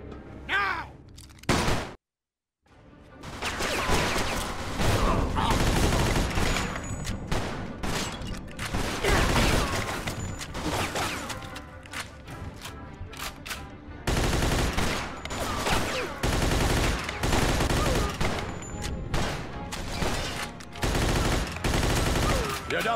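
Dense bursts of automatic and rapid gunfire in Mafia II, loud and close, repeating in long volleys with brief pauses, mixed with game shouting and voices.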